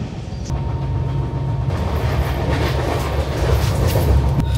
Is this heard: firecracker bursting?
no